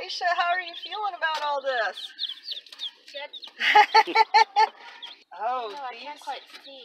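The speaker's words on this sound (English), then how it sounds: "We have 15 chicks now." Fifteen baby chicks peep with high, rapid chirps close by, sounding throughout alongside people talking.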